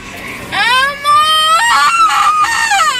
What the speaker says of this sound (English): we don't need to be screaming like that